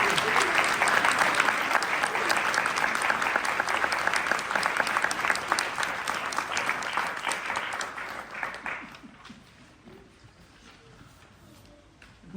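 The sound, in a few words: audience applauding the performers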